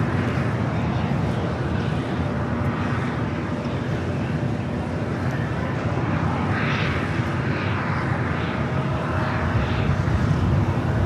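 A United Express SkyWest CRJ departs LAX for Prescott, Arizona, its jet engines making a constant broadband roar at moderate distance with no talk over it.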